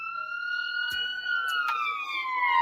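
An ambulance siren wails outside the California Men's Colony prison during an inmate riot, loud and close, its rising and falling tones sweeping steadily with a few brief knocks in the background.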